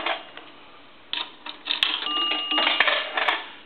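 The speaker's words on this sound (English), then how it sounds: "and then a dime will hit twice." A dime falls through a three-slot Western Electric 191G payphone and strikes the bell twice, two short ringing tones among clattering coin-mechanism clicks and thumps, up close and without speech.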